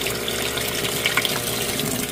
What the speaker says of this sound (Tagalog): Nag-refill na siya ng tubig.